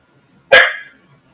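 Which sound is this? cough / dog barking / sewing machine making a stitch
dog barking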